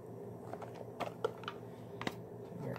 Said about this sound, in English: Very careful opening this.